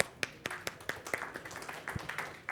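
Scattered claps from a small conference audience, sparse and uneven, several distinct hand claps rather than a full roaring ovation.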